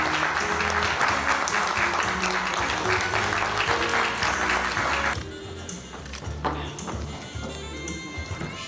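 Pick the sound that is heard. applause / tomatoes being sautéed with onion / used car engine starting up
applause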